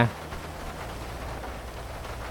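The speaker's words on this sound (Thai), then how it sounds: "ตอนนี้ฝนก็ได้เทลงมาแล้ว ในตกไม่แรงนะ" Light rain patters steadily in a GTA V zombie mod game, a soft continuous hiss of drops on surfaces at an even level.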